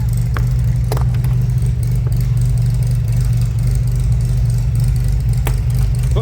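A 1963 Chevrolet Corvair Monza 900 convertible's engine idles with a steady, deep exhaust rumble, loud and close, with a few faint clicks on top.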